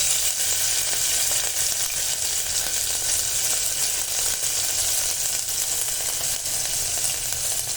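Garlic and chopped green chilli sauté in hot oil for tuvar dal khichdi, giving a steady, loud, even sizzle that runs unbroken and close throughout, with no voices.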